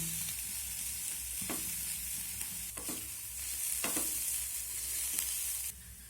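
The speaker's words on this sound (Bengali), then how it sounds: "এখন আমি সব সবজিগুলোকে নেড়ে করে একটু ভেজে নেব" Vegetables frying in a pan for a sago and chicken stuffed snack, a constant bright sizzle broken by repeated scraping strokes of a spatula every second or so.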